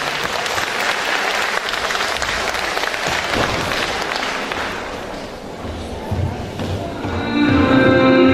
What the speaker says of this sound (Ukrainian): Тож вітайте її своїми оплесками